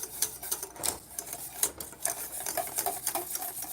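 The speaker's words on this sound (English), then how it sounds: "That's what you got to do, is constantly stir." Spoon scraping and swishing through thick homemade banana pudding in a hot pot on the stove, a steady close-up rhythm of quick rubbing strokes with no talking.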